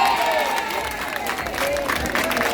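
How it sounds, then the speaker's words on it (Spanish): Applause from an audience at a young ladies' coronation celebration, a steady wash of clapping with crowd murmur and some tonal voices or music threading through. "esos aplausos son muy pocos"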